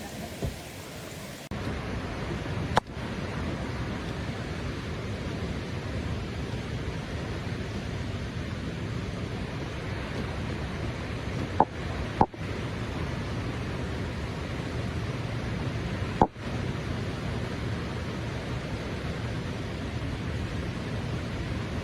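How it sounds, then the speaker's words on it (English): Brown floodwater torrents rush past homes and wash out roadways during a deadly flash flood in New York's Hudson Valley, a steady broad roar without a break, marked by a few sharp isolated clicks and no voices. "streams of brown-colored torrents rushing right next to homes and roadways washed away by fast-moving cascading flows"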